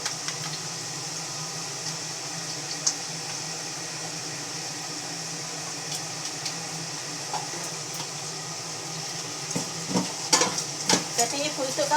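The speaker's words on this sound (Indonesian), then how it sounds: "Ini telurnya mau digoreng ya" Eggs frying in a pan on a home stove, giving a soft, continuous sizzle with occasional light clinks of a utensil, heard close and fairly quiet.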